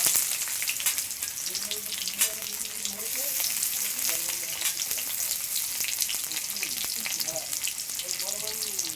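Onion frying in hot oil with black cumin seeds, a steady loud sizzle and crackle with scattered pops, close up, while a soft voice can be heard faintly underneath.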